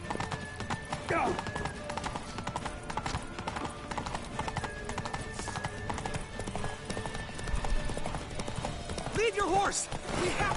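Rhythmic horse hoofbeats clip-clop under music and scattered voices in the video game The Witcher 3: Wild Hunt, with a horse whinnying briefly near the end.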